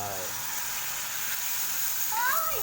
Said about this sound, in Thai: เราก็ใส่น้ำซุปนะครับ ใส่น้ำซุปเข้าไป